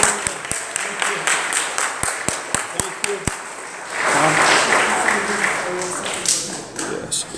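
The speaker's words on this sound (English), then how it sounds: "Let's clap our hands for Shane and Ashley." A church congregation applauds together, a sparse run of sharp single claps giving way to a fuller burst of clapping, with a voice speaking over parts of it.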